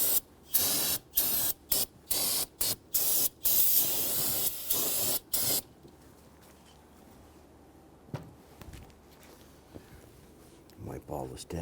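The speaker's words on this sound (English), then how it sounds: "go ahead and grab some solvent, spray solvent, and we're going to spray this down." Bursts of aerosol solvent spray hiss in short repeated blasts onto a brake master cylinder on a 2007-2014 Cadillac Escalade, loud and close, then give way to quieter workshop handling sounds.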